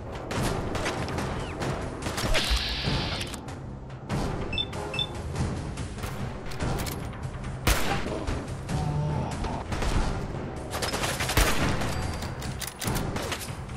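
Super mutants fire guns in the Fallout 4 video game: a steady clatter of overlapping gunshots and booms, loud and dense, running throughout with sharper cracks breaking out now and then.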